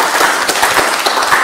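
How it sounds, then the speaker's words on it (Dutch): Audience applause at a Leiden University Prinsjesdag 2020 analysis event, a loud, dense spread of clapping that stays steady throughout with no voices over it. "Een groot applaus voor jou"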